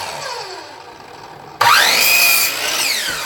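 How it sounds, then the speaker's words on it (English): Power saw cutting wood for a 90-gallon aquarium stand, starting abruptly partway in with a loud, steady whine that holds for over a second, then settles lower while still running, after a quieter stretch of room noise. "the saw will be quieter than lots of hammering"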